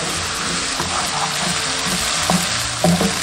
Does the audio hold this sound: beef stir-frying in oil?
yes